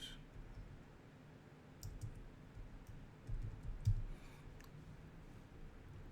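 Faint, scattered keystrokes on a computer keyboard: a few soft clicks spaced unevenly over a quiet room background, with no talking.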